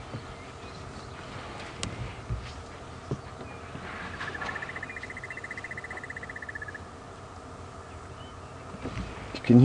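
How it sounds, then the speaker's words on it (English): A rapid, even trill of a crested barbet calling runs for a few seconds in the middle, set against steady outdoor ambience with faint rustles and distant knocks, at Djuma Game Reserve, Sabi Sands, South Africa. "You can hear a crested barbet calling in the background."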